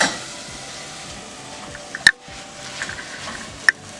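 Spinach, carrots and other vegetables with soy sauce and rice vinegar cook down in a pan for ramen, giving a steady soft sizzle with occasional sharp pops and ticks.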